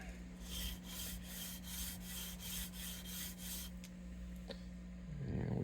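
A sanding beam rubbed back and forth along a guitar neck during a headstock reglue repair, giving about eight rhythmic, raspy strokes, close but quiet, followed by softer handling noise.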